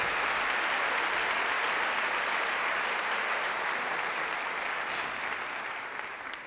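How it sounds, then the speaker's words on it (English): Audience at a convocation ceremony applauding, a thick, sustained wash of clapping from a large crowd that holds steady and then begins to thin and fade toward the end. "Give yourself a round of applause"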